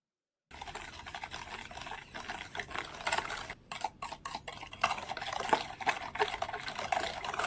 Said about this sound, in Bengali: একটা হুইস্কের সাহায্যে এবারে ভালো করে মিশিয়ে নেব